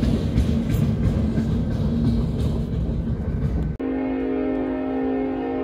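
A local freight train runs down a valley with its locomotive long hood forward: a loud, close rolling rumble that abruptly gives way to a steady droning engine hum for the final seconds.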